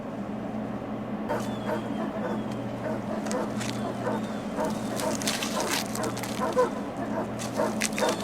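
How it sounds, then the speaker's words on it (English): Dogs bark repeatedly in the 2002 film Signs, sharp yips and barks scattered over a steady low hum, with faint voices in the background. "The dogs keep on barking."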